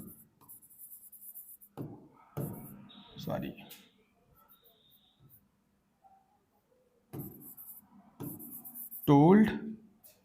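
Writing strokes on a board during an English class come in short scratchy bursts in two clusters, with a teacher's voice speaking between them in a quiet room.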